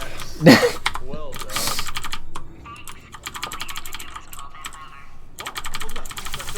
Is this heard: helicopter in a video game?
no